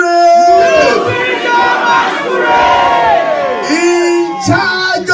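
Church revival congregation shouting loudly together during prayer, a dense crowd of raised voices and cries filling the space continuously and close.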